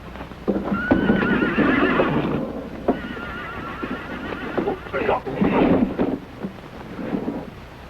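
Several horses whinny loudly and shrilly, with hooves clopping and rumbling underneath, close by and busy throughout.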